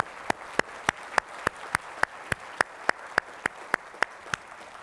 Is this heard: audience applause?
yes